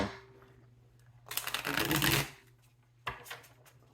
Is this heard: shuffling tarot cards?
yes